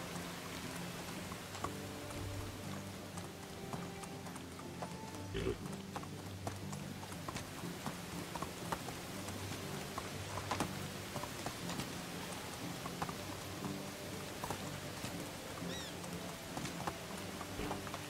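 Horse hooves clip-clopping steadily while riding in the medieval survival game Medieval Dynasty, a regular trotting rhythm over a rainy ambient bed with game music, moderately close and unbroken, with a voice speaking over it.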